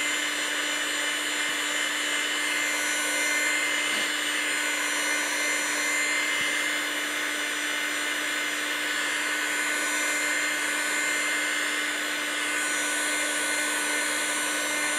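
A heat gun blows steadily on the metal parts of a plains pistol kit, a constant loud whirring hiss lasting throughout with no pauses.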